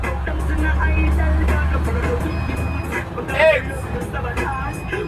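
Shacman heavy truck engine rumbling at low pitch under a voice while gears are floated without the clutch, with engine tone shifting between gear changes.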